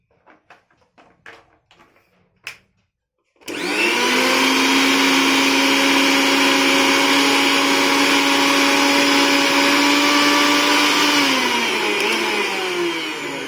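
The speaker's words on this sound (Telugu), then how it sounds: "మిక్సీ అనేది ఎలా రన్ అవుతుందో ఒకసారి చెక్ చేద్దాం." A mixer grinder with a newly replaced armature starts abruptly after some faint clicks and handling noises, then runs with a loud, steady, high-pitched motor whine for about ten seconds. Its tone drops slightly near the end, and no one speaks over it.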